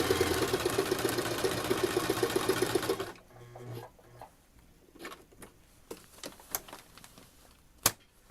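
A sewing machine stitches the fabric of a baby changing mat in a steady, close, whirring run for about three seconds, then stops, leaving scattered clicks and handling noises.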